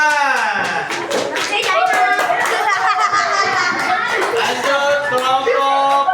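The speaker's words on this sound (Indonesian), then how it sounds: "Tepuk tangan." Children in a classroom clap their hands in a steady, dense burst of applause lasting several seconds, mixed with lively young voices calling out over the clapping.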